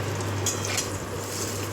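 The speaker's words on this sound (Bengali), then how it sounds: "সব বেগুনগুলোকে এক এক করে ভেজে নিই।" Eggplant slices fry in hot oil in a pan, giving a steady, close sizzling hiss with a couple of brief bursts of sputtering and no talking.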